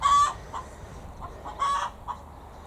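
A hen clucks after laying an egg on a garden allotment plot, giving loud, bright cackles in two bursts with softer single clucks between, close by and with no talk.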